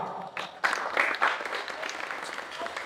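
An audience at a Jain monk's welcoming ceremony in Tendukheda claps, a moderate burst of scattered applause that swells and then thins out.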